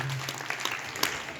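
Audience at a Hindi motivational talk about business success stories breaks into clapping, a brief busy patter of many hands with a faint voice at the start.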